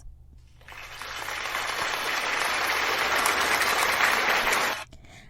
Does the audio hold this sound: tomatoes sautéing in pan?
no